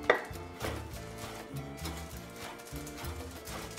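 A chef's knife cuts food into even pieces on a cutting board, with a string of soft, regular taps heard alongside background music.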